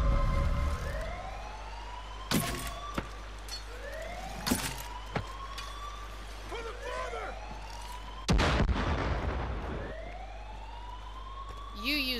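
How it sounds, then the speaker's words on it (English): Far Cry 5 mortar fire: rising whistles of incoming rounds arc overhead, and a few heavy blasts punctuate a steady low rumble, with a distant alarm-like wail mixed in. "You use the fucking mortar."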